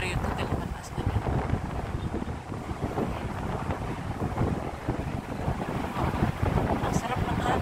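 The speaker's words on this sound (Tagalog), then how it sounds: "Ang sarap ng hangin." Wind blows outdoors on a walk through Metro Manila near a hotel, a constant rushing buffet across the microphone that holds steady for the whole stretch.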